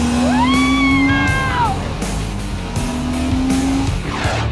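Car tires squeal in long, high, wavering tones, two drawn-out screeches with engine and road noise beneath, loud and close, on a drive near the palaces of Sintra, Portugal.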